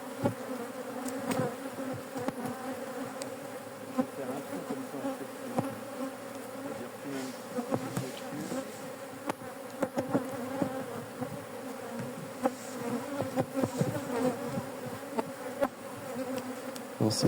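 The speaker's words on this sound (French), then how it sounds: "quand on voit la quantité d'abeilles qui s'envolent" A big swarm of honeybees lifts off an aggressive colony's hive that is preparing to swarm. Their dense, steady humming buzz is close and continuous, with individual bees zipping past throughout.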